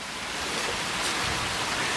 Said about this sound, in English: it's starting to rain more now